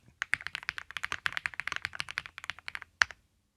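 Rapid clicking of computer keyboard typing, a steady run of close, crisp keystrokes with a slightly louder tap near the end.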